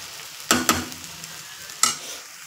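Potato chutney with onion sautéing in a pan: a steady soft sizzle broken by a few sharp stirring scrapes, two close together near the start and one more later, with no talk.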